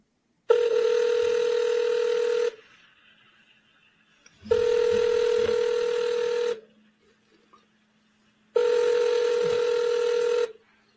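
A phone rings back in three long, even tones about two seconds each, separated by two-second silences, loud and close after a cell number is dialed, with no talking over them.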